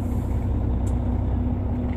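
A truck's air brakes release with a brief hiss near the cab, heard over a steady, loud engine idle.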